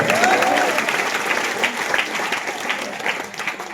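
A school freshers' welcome comedy show audience claps steadily and loudly throughout, a dense sustained round of applause from a crowd that slowly thins toward the end.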